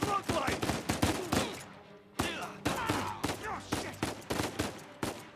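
Rapid bursts of gunfire in the Uncharted video game, loud repeated sharp shots in dense volleys with a short lull midway, faint voices beneath.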